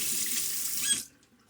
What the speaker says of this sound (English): and then you have to add water.